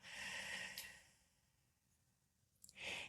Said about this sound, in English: let's breathe in through our nose and out through our mouth like we're breathing through a straw